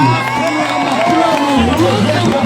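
A crowd at an evangelism campaign cheers and acclaims loudly, with a mass of voices and shouts swelling together and a single voice rising above them.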